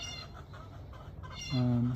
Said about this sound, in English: y'all know the chickens. They're doing their thing.